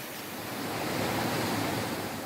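Four opened gates of the Kali Sindh dam release floodwater after heavy monsoon rain, producing a loud, unbroken roar of rushing water that swells slightly, with no voices.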